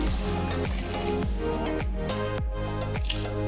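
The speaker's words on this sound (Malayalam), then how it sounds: "കുറച്ച് വെള്ളം ഒഴിച്ചിട്ടൊന്ന് വേവിച്ചെടുക്കട്ടെ" Water is poured into a cooking pot holding salted mango pieces for a Kerala mango pulissery, giving a steady, close liquid trickle with soft repeated splashing drips and no talking.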